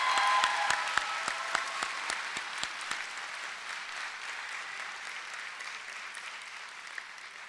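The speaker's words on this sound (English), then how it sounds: "give a round of applause for your support system here tonight" A commencement ceremony audience claps in a broad, steady wash of applause. Several sharp clicks in the opening seconds cut across it, and the clapping gradually softens over several seconds.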